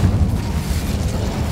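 An Incendio fire spell blasts out in Hogwarts Legacy, a loud, low rumbling burst of flame that roars on steadily with a deep, churning body.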